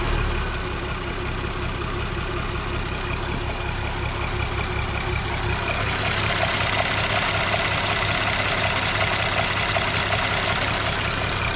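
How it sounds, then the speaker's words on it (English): A 2010 VW Passat R36 engine idles steadily with a rapid, persistent ticking clatter from loud lifters running throughout, fairly loud and close, no talking. "You can hear how loud the lifters are."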